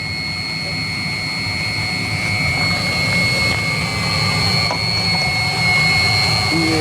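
A Chinese diesel water heater runs with a steady, loud roaring burn and a faint high whine on top, recovering after a glow plug failure, continuous and close throughout.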